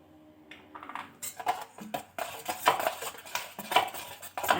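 Garlic, turmeric and spices being mixed in a bowl for coconut fish fry, with a spoon clinking and scraping against the bowl in quick, irregular strokes, close and fairly loud, with no talking.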